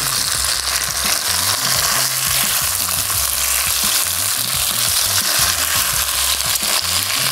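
Garlic sizzles steadily in a hot pan, a dense, continuous crackle with faint stirring scrapes and no voices.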